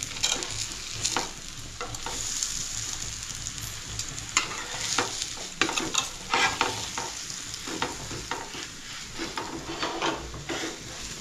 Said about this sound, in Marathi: आता फिरवताना थोडासा तेल टाकायचं त्याच्यावरती. आता आपण फिरवूया एक एक.